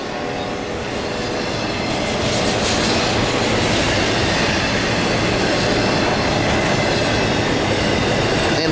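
Norfolk Southern NS 211 intermodal freight train with AC44 and Dash 9 locomotives passing southbound on track 1 at Lowell, a loud, steady rumble of rolling cars with rhythmic clickety-clack wheels and faint squeals, no talk.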